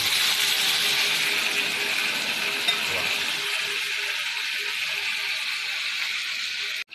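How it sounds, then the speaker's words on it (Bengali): Water goes into a hot pot of egg curry with potatoes and spices, making a steady bright hiss and bubbling sizzle that slowly eases over several seconds before stopping abruptly. "এখন দিয়ে দেবো পরিমাণ মতো জল"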